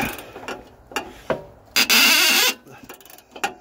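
Car rear subframe bolt being undone: a series of sharp metallic creaks and ratcheting clicks, with one loud sustained high-pitched squeal in the middle, close and with no voice over it.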